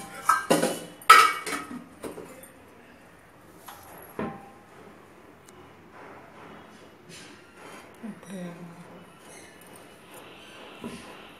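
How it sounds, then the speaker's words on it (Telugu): A metal pan is set down on a kitchen stove for cooking a gongura and salted fish curry, a sharp clank near the start among a few lighter clinks, with a person talking throughout. "పొయ్యి మీద ఒక పాన్ పెడదాం."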